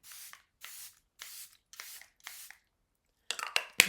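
Five short hissing bursts of a makeup finishing spray misted onto a face, evenly spaced and close, followed by a few louder rustling clicks.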